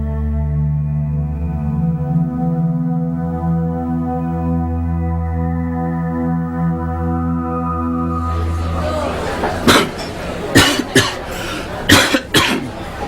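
A man with a cold coughs repeatedly in short, sharp bursts near the end, after a long stretch of steady low droning background with no coughing.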